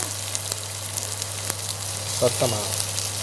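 Onion, curry leaves and green chili crackle and sizzle in hot oil for a Jaffna-style chickpea curry, a steady close frying hiss over a low hum, with a brief voice near the end.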